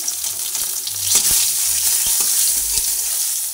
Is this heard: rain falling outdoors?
no